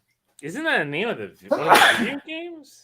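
A single sharp sneeze bursts out after a stretch of casual talk, with another voice speaking around it.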